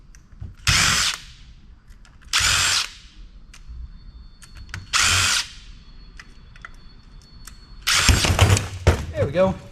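A power tool backing screws out of a scrapped bill counter's plastic housing, heard as three short whirring bursts at even intervals and then a longer burst, loud and close, with a voice at the end.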